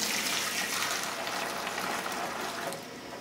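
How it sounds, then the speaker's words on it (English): Hot water pours steadily into an opened Coopers Heritage Lager beer concentrate can, a continuous hissing, gushing wash of liquid that stays close and even throughout with no voices. "Hot water to the can so I can get the residual concentrate out of the can."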